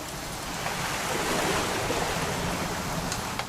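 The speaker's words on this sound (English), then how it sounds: "It's gonna rain the whole weekend, isn't it?" Steady broadband rain hiss from a video game, continuous and moderately loud, with no voices over it.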